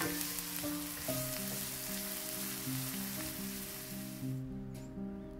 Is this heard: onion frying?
yes